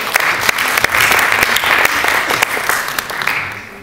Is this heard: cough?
no